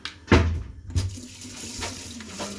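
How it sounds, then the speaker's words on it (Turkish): Water pours as pasta is drained through a strainer into a kitchen sink, a loud splashing burst near the start and another shorter gush about a second later, then a softer running trickle continuing to the end. "Şimdi makarnamı süzeceğim"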